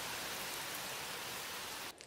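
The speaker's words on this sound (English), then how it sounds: "can you hear the rain? It's raining." Rain pours steadily outdoors, a dense, even hiss heard from indoors that stays constant before abruptly dropping away at the very end.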